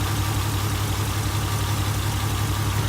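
A car engine cranks at wide open throttle during a compression test, giving a steady, rapid, rhythmic chugging from the starter turning the engine over, loud and close throughout with no talk.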